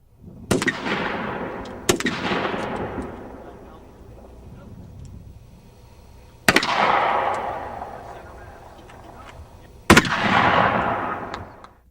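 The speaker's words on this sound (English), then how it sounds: "Separate pieces of panel were tested with field rifle, shotgun, and 9mm handgun." A field rifle, a shotgun and a 9mm handgun fire at a range on a U.S. Marine base. Four sharp, loud reports ring out, spaced seconds apart, each trailing into a long, rolling echo.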